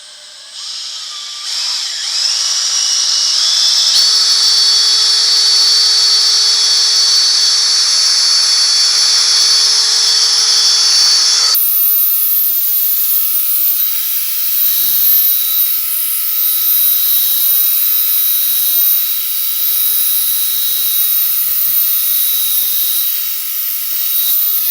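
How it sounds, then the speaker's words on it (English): A drill polishes a granite countertop with a steady, loud high-pitched whine that holds for the whole stretch, shifting to a higher, brighter pitch partway through. "We want to keep the drill in a nice perpendicular position."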